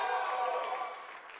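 A chapel audience's crowd noise, reacted to as booing: a brief, steady wash of many voices that fills the room, loud at first and tapering slightly.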